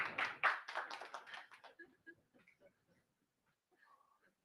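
A crowd breaks into brief applause that quickly thins out into a few scattered claps and faint noises.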